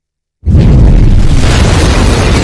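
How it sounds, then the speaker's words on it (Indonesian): A bomb strapped to a man's stomach detonates in a movie scene: after a moment of silence, a sudden, very loud, deep blast erupts and rolls on as a sustained, rumbling roar. "Akibat ledakan tersebut, Salim pun harus terbakar dan terluka."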